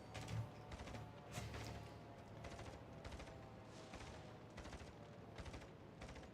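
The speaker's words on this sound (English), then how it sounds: "It sounds like we're shooting back at this thing." Naval gunfire in World of Warships Legends, with a French battleship among the ships, as a steady stream of shots and booms keeps pounding at a moderate, somewhat distant level throughout.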